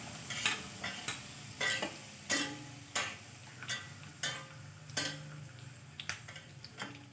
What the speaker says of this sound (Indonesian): Kita goreng sampai kentangnya matang.